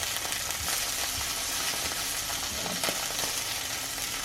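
Morel mushrooms sizzle steadily in a hot pan, a dense crackling fry with a few soft scrapes and stirs as they are flipped.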